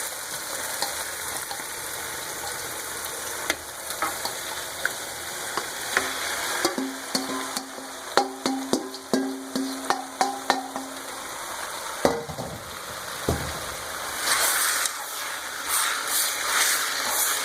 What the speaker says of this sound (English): Stirring, make sure the sauce is all mixed in.